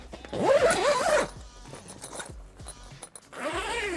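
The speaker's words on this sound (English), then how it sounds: "And then we're zipping that open." A new privacy screen zipper is pulled open in a long, fairly loud rasping stretch, followed by softer handling noises and a second shorter zip near the end.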